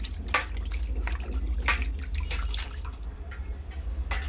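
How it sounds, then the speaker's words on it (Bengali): Clean water splashes and drips over whole loach fish as they are rinsed by hand for a potato curry, close by with irregular dribbles and small splashes and no talking. "ভালো করে পরিষ্কার জল দিয়ে সুন্দর করে মাছটাকে ধুয়ে নেব।"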